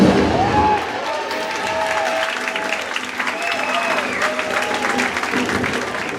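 A live show audience at Cedar Point's HalloWeekend claps loudly and continuously, with some cheering and a voice rising over the steady applause.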